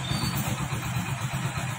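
A Hero Splendor Plus motorcycle engine runs steadily after repair work, a continuous low, even idle rumble heard close up with no other sounds.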